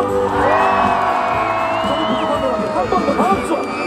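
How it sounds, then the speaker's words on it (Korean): An outdoor festival crowd at a concert at the Sangju World Hat Festival whooping and cheering loudly together, a sustained roar of voices with shrill calls rising above it. "다같이 박수와 함성"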